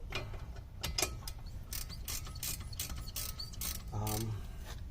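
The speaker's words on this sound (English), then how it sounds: "We're going to take our 9mm and turn to loosen them." A ratchet with a 9mm socket loosens bolts on the rear brakes of a 2011–2016 Jaguar XJ. It gives repeated close, sharp clicking bursts in short runs, with a steady rapid ratcheting stretch near the end.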